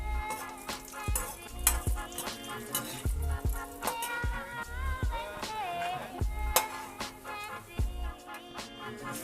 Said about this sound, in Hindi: काजू भी तल लेंगे हम।